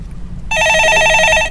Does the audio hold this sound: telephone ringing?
yes